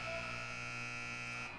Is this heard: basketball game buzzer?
yes